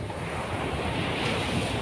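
Morning ocean surf at Batu Putih beach in Indonesia, a steady close roar of breaking waves and wash mixed with wind buffeting the microphone, continuous and fairly loud with no talk.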